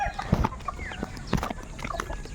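A hungry chicken clucks and scratches nearby, giving a few short, sharp calls among scattered knocks and rustling, fairly faint overall.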